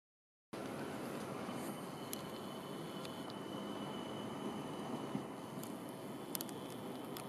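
A train passing through Łowicz Główny station in Poland during a thunderstorm makes a steady, loud broadband rumble of wheels and wagons that runs throughout, with faint high squeals above it.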